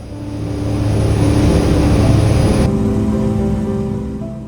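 A floatplane on a Misty Fjords flightseeing tour out of Ketchikan takes off from the water, its loud propeller engine droning steadily as it swells and then slowly eases, heard from inside the cabin with no talk.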